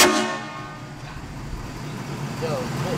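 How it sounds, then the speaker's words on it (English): A set of fan-style train horns fed by two air tanks, mounted on a leveled Ford F250 truck, gives a loud harmonic blast at the start that fades into rumbling background noise with faint voices. "We also got train horns."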